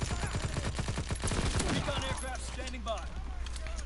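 Gunfire in Call of Duty WWII: a rapid burst of sharp shots fades into scattered quieter impacts and battlefield clatter.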